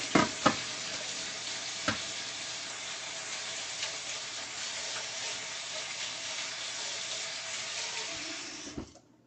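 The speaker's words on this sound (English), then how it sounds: "Rinse this off here." Dishes rinsed under a running kitchen tap, a steady close rush of water spattering over plates for several seconds with a few clinks, then the flow cuts off; no talking.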